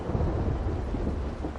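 Rain and thunder in the war strategy video game Sudden Strike 4: a steady, dense roar of rainfall under a low, continuous thunder rumble, with no talking.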